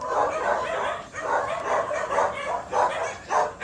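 Several dogs barking and yipping on a mango farm, close and loud, in repeated overlapping bursts with brief whimpering between barks.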